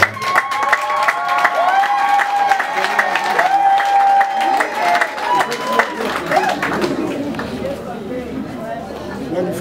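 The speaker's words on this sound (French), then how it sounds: "Applaudissez pour le monde." Wedding guests at an official Congolese wedding clap and cheer in a lively crowd, with a chatter of voices, whoops and a sustained, slightly wavering wash of applause.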